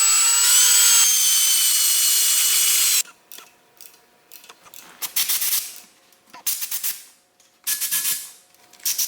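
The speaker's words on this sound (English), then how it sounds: "We have them marked, we just need to drill them and tap them." Power drill boring and then tapping holes in a Holley Sniper intake manifold on a twin-turbo Ford Mustang S550: a loud, steady whirring run for about three seconds, followed by several shorter, choppy bursts separated by pauses.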